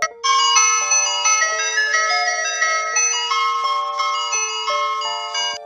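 An ice cream truck plays its jingle tune as a bright, tinkling chime melody. The notes run steadily and clearly with nothing else heard.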